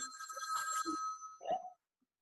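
A phone ringing nearby with a bright, electronic trilling ring that holds steady for about a second and a half, then stops abruptly, leaving near silence.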